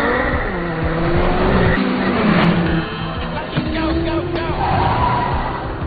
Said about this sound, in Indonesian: Dari area parkir, Lindy mencuri McLaren milik Justin dan kabur dari gedung.